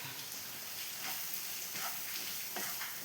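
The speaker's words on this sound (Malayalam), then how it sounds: "അപ്പോൾ ഇട്ട് നമുക്ക് നല്ലോണം വഴറ്റിയെടുക്കാം" Ingredients for Kerala-style kadala curry sauté in a hot pan, giving a soft, steady sizzle and hiss with a few faint stirring scrapes, heard alone and fairly quiet.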